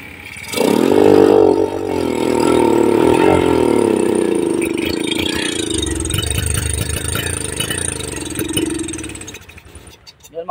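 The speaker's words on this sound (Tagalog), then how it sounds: "kinakapos-kapos siya, tapos parang namumutok ang tambutso" A Bajaj CT 100 motorcycle with a misfiring engine starts and runs close by, its idle uneven and struggling while the exhaust pops and sputters irregularly, fading toward the end.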